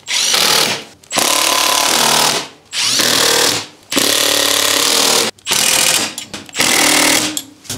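A power tool drives bolts home on a BMW R1250GSA motorcycle in six loud, close whirring bursts, each about a second long and separated by brief pauses.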